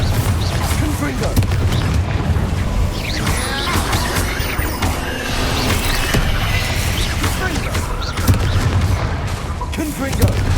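Confringo spell blasts go off in Hogwarts Legacy, a dense run of booming explosions and crashing impacts mixed with combat effects, continuous and loud, with a voice shouting spell names over the fray.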